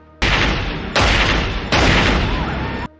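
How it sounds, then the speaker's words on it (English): Gunfire from an X-Files shootout scene, loud dense bursts of shots in three long roaring blasts, each stopping abruptly, with no speech. "Scully then decides it's her turn and she unloads her mag right into him"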